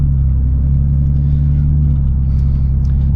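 A Lexus GS350 F Sport automatic sedan pulls away, its engine giving a steady, loud low rumble heard from inside the cabin throughout, with no audible revving.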